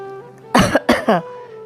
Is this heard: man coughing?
yes